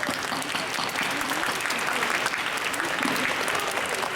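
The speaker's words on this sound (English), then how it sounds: "Let's give them a clap." A school audience applauds the nominees at a young writers' awards ceremony in Hong Kong, a dense, steady wash of clapping that fills the whole stretch at an even level with no talk over it.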